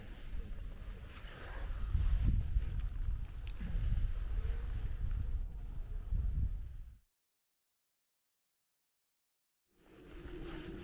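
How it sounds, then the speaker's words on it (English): Strong wind gusts through an abandoned millstone quarry in the Peak District, rumbling hard against the microphone for about seven seconds, then dead silence before the buffeting returns. "Back in the wind."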